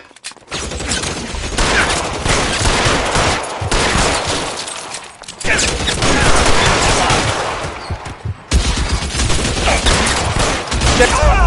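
Gunfire in the crime video game L.A. Noire, loud dense bursts of rapid shots forming sustained volleys, broken by short gaps and a few abrupt cuts.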